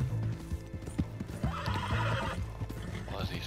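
Horse in Red Dead Redemption 2 Online, hauling a carriage over a long ride: steady clip-clop hoofbeats with a whinny and neigh rising midway, close and continuous under game ambience.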